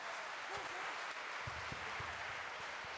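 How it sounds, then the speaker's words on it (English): Audience applause for the head girl and head boy at a primary school annual day in Bengaluru, a steady wash of clapping from a large crowd throughout, with a few faint voices underneath. "Please give them big round of applause, both of them."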